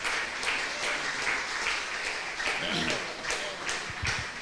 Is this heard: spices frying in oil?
no